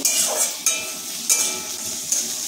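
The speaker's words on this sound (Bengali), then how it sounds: "সব পেঁয়াজের সাথেই অল্প অল্প করে ভাজতে থাকবো" Onions with dried and green chillies fry in a pan; a brisk sizzle is broken by several short stirring scrapes, and no one speaks.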